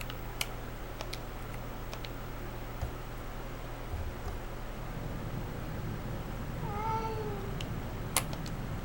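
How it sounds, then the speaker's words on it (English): A cat meows softly twice in a short rising call inside the horror game Silent Hill 4: The Room, faint over a low droning hum and scattered ticks, with no talking. "It looks like it's making a cat noise."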